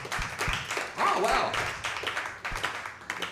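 Comedy club audience claps in scattered bursts, with a man reacting over the clapping.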